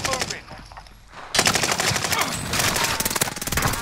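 Call of Duty Warzone gunfire: rapid automatic bursts crackle loudly after a brief lull, a dense string of sharp shots continuing to the end.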